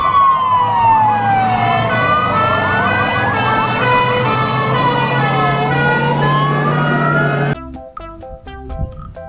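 A toy fire truck's siren wails loudly and continuously in rising and falling sweeps, with a steady electronic tone beneath, then cuts off abruptly near the end, leaving a few faint clicks and beeps.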